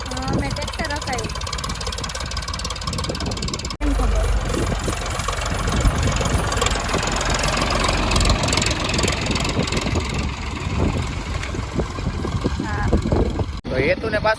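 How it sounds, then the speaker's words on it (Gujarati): A tractor engine runs at a steady, mid-pitched idle-like drone that holds for the whole stretch, with people talking over it. "મેં ટ્રેક્ટર હકાયું."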